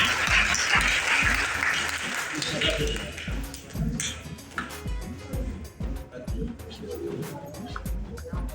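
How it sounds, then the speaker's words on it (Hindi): A crowd at a community gathering applauds to welcome a speaker, with dense clapping that fades into sparse, scattered claps and crowd murmur, while birds coo and call in the background. "थोड़ा तालियों के साथ स्वागत करते हैं उनका"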